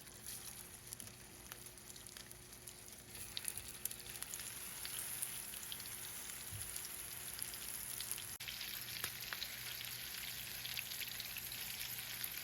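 Meatballs searing in olive oil in a hot pan give a faint, steady sizzle and crackle with scattered pops, continuous and close, no voices.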